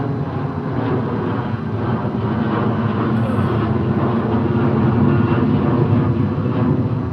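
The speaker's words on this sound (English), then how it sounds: "we're gonna get a lot of air traffic, a lot of planes coming through" Aircraft pass overhead on a day with heavy air traffic before Thanksgiving, heard outdoors at a fishing spot as a loud, steady, broad jet roar that swells slightly and fills the whole clip.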